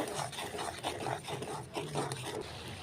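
Spices, mustard paste, turmeric and salt with dela fish are stirred in a pan, giving soft repeated scraping and rubbing strokes close by, quiet and rhythmic.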